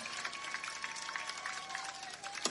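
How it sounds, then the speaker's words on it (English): Crowd applause at a high school football game's halftime for the Good Hope Marching Raider Band, a steady distant wash of clapping and crowd noise with a faint tonal hum underneath. "Let's give another round of applause for the Good Hope High School Marching Raider Band"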